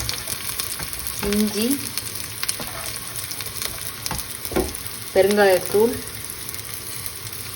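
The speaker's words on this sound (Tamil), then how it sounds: "கடுகு வெடித்ததும் அதில் நறுக்கி வச்ச வெங்காயம் சேர்க்குறேன்" Chopped onions sizzle in hot oil with popped mustard seeds and urad dal for chutney, a steady close frying hiss with occasional spoon scrapes, while someone speaks briefly twice.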